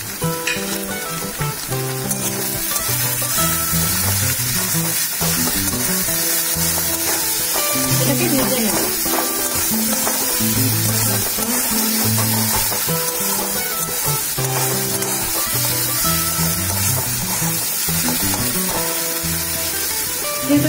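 Small diced potatoes fry in a pan with salt and turmeric, giving a continuous loud sizzle with occasional stirring scrapes while music plays throughout.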